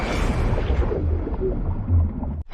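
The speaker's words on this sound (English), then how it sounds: "A massive explosion erupts." An explosive device detonates in a massive war-film blast during close combat with a Japanese soldier, giving a loud, deep rumbling boom that rolls on for a couple of seconds before cutting off abruptly.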